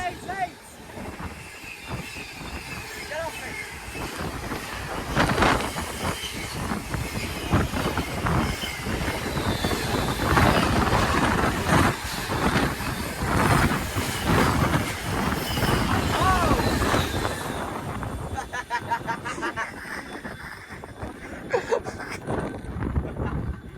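Class 66 locomotive 66788 passes close through Tamworth station on the West Coast Main Line, its loud engine rumble and rhythmic wheel clatter building and then fading away, with people talking nearby.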